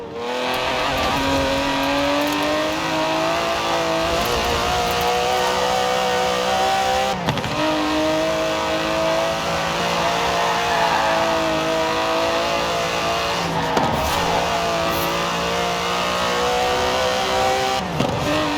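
An Aston Martin DB11's 5.2-litre twin-turbo V12 revs hard and steadily in the video game Forza Horizon 4, its deep roar holding through the whole stretch with brief dips as gears shift, loud and close.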